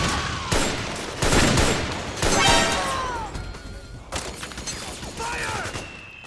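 Gunfire in the video game Metal Gear Solid 4: Guns of the Patriots, loud bursts of automatic fire in several volleys with sharp impacts and ricochet whines, and shouted voices mixed in.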